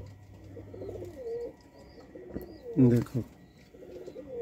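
Pigeon coos from a rare eight-kali chapri female pigeon, soft repeated rolling calls close by, with a louder burst near the end and a voice briefly speaking over them.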